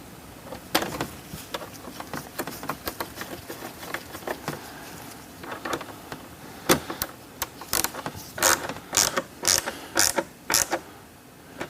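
Ratchet tightening a 10 mm fastener on a C7 Corvette, a series of quick clicking turns close by, irregular at first and then in short bursts, with no talk.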